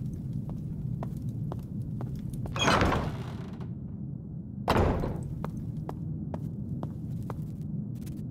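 Door swinging open in the horror video game Nightmare of Decay, two broad creaking scrapes standing out over a steady low ambient hum with scattered faint ticks.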